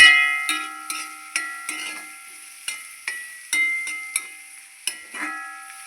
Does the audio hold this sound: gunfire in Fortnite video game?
no